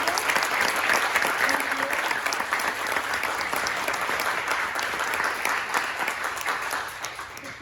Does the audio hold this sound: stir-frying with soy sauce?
no